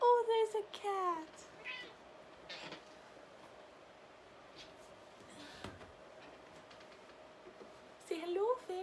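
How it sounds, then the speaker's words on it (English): A cat meows a few times close by, short rising cries at the start and again near the end, with quiet room tone between and a person's voice briefly present. "Oh, there's a cat."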